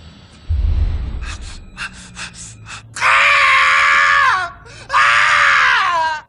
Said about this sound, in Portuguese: Vamos concordar que esse gritinho foi bem esquisito, né?